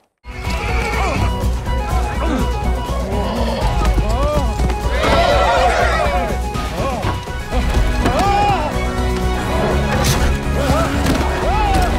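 A horse from the animated film Spirit neighs and whinnies loudly over a busy film soundtrack with clip-clopping hooves, thuds and crashes, while voices speak throughout.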